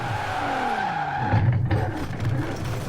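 Car in Forza Horizon 4 skidding with a sustained tire squeal over a loud engine drone, the tone sliding downward, then a rough thud-like burst as it hits something.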